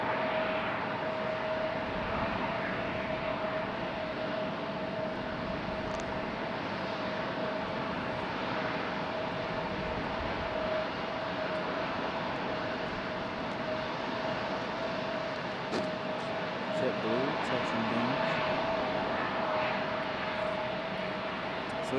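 An Airbus A320 airliner taxiing at Raleigh-Durham airport, a steady droning engine roar with a constant whine, moderately distant and unbroken throughout.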